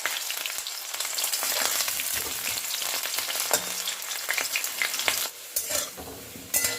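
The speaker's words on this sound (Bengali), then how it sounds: "এবার আলুগুলো ছেড়ে দিচ্ছি। আলুগুলো ভেজে নেব।" Potatoes frying in hot oil in a kadai for a cabbage ghonto, a steady close crackling sizzle with scraping stirs throughout, no voices.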